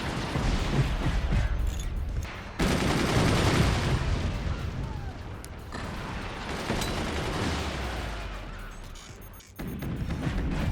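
Weapons firing in the strategy game Forts, a dense stream of gunfire, crashes and impact bursts with abrupt shifts in intensity, loud and continuous throughout.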